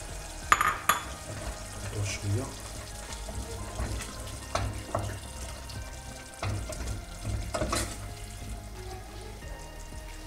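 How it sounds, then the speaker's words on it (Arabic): Sweet peppers fry over low heat in a pan, a soft, steady sizzle broken by a few clinks and scrapes of a utensil against the metal. "على نار قليلة، نخلوه يتقلى مليح"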